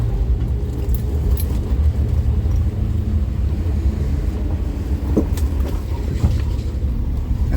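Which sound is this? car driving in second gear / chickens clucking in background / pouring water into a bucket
car driving in second gear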